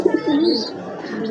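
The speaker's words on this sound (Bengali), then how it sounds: "শ্রীলঙ্কা পায়রা।" Sri Lanka pigeons in a home loft give soft, low, rounded coos close by, with a few warbling notes repeating over a second and a half. No one speaks.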